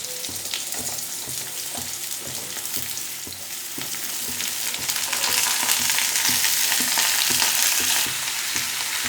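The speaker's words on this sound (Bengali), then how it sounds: "আমি সবজিগুলোকে খুব ভালো করে ভেজে নেব একটু" Mixed vegetables and potato frying together in a pan, a steady loud sizzle with repeated scraping stir strokes, no voices.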